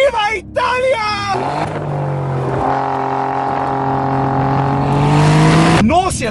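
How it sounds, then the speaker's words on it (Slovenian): An Alfa Romeo Giulia Quadrifoglio engine revs and roars while driving on a mountain road, rising and falling through the gears in long, loud pulls, with someone talking briefly before and after. "avto se pogovarja s tabo, vsakega časa se tudi malo zadere, zarenči."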